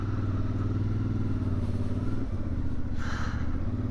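A CFMOTO 450MT motorcycle engine drones steadily under a rider held below 4,000 RPM, a close, even hum that drops briefly as the revs shift, with wind rushing past.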